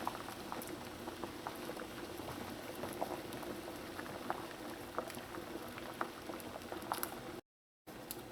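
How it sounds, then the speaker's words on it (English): Trinidad corn soup with dumplings at a steady rolling boil, a soft, even bubbling and popping that keeps up throughout, with a brief dropout near the end. "My soup has come up to a boil."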